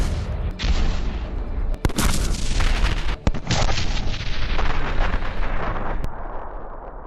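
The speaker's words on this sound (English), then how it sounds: "A few shots from a high-precision gun can quickly eliminate the target and escape." An Abrams tank gun fires several sharp, heavy shots amid continuous booming combat noise, loud and dense over seven seconds.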